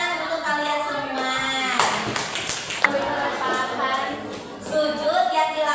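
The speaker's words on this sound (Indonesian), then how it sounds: "Tepuk tangan untuk kalian semua." Students in a classroom clap for their group, with scattered hand claps mixing into a busy layer of young voices chattering and calling out.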